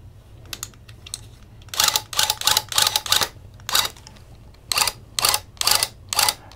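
A loop pile tufting gun fires in short loud mechanical bursts, rapid rattling runs separated by brief pauses, close up over a low background hum, with no talking.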